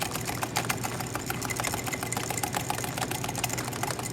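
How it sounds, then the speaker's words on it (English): Rapid, steady whisking of iced matcha with milk, a dense buzzing whir of a small whisk churning liquid, continuous and close with no pauses. "when we're whisking our matchas, we want to make sure it's incorporated"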